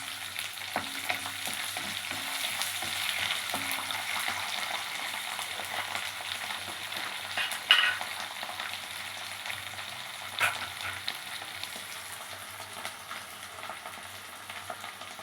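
Ginger garlic paste sizzles in a hot pan for a capsicum, coconut and cabbage fry, a steady crackling hiss with occasional stirring scrapes and no voices.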